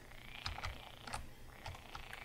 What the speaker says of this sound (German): Irgendeine Tierart hat sich wohl verändert, dass es quakt